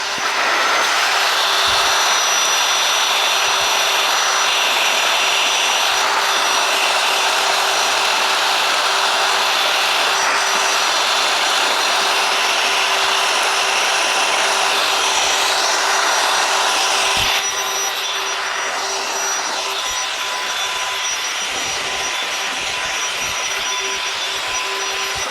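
A Ryobi 18-volt ONE+ 6-gallon cordless wet/dry vacuum runs steadily at close range with a loud, continuous whine, its pitch shifting slightly partway through as suction changes.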